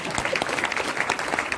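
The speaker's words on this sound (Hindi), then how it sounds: "ठोको ताली मैडम" Audience applause at a DXN business gathering, steady dense clapping throughout, fairly close and continuous with no voices over it.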